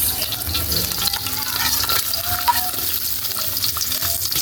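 Chopped onion sizzles and spatters steadily in hot oil in a pan as the base for Filipino chicken tinola, a continuous bright frying hiss with small utensil clicks and no talking.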